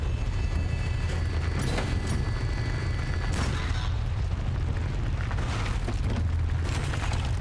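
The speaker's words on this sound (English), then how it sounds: "explosion." An explosion in the video game Laika, a continuous heavy rumbling boom with dense low roar and scattered crackling bursts, sustained and loud throughout with no talk.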